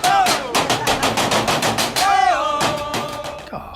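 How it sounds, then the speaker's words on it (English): Men beat on metal dustbins, making a rapid, continuous volley of loud clanging strikes with ringing metallic overtones. The strikes slow briefly toward the end. "The men are hitting dustbins."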